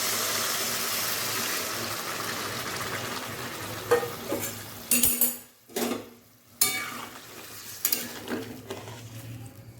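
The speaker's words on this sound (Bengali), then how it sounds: "এগুলো আমার ভেজে নিয়েছি এবার আমি জল দিয়ে দেবো" Water poured into frying spices in a pan for a thin singi fish curry: a steady sizzle ends in a burst of hissing and sputtering, followed by spoon scrapes and clinks against the pan.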